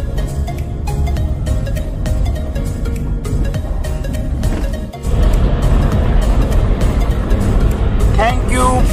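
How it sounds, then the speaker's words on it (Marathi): Night road traffic in Kolhapur city: a steady, loud rumble of engines and passing vehicles, continuous throughout, with an abrupt cut midway followed by a denser, louder wash of traffic noise. "आणि हे आहे कोल्हापूरचं ट्रॅफिक"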